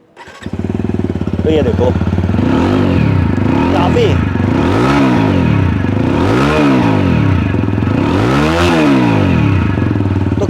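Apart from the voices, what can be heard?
motorcycle exhaust revving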